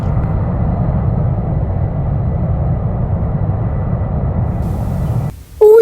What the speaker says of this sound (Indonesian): Ternyata pesawat terbang.